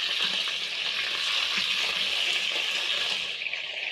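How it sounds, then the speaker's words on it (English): Oxtail sears in a hot pan with a steady, dense sizzle that holds close and loud throughout, one piece flipped to brown the other side, with no voices. "I'm going to flip my oxtail so that you can sear on the other side"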